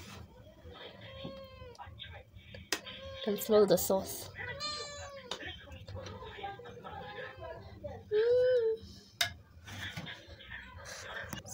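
A cat in a kitchen during homemade pizza making meows repeatedly, with several close, drawn-out, plaintive calls over about ten seconds while a person talks briefly.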